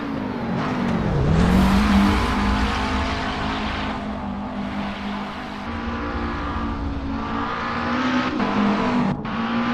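A McLaren 650 GT3 race car in a racing video game at Bathurst sounds loud and close, its engine droning steadily as the pitch sweeps through revs and gear changes, with other cars in the background.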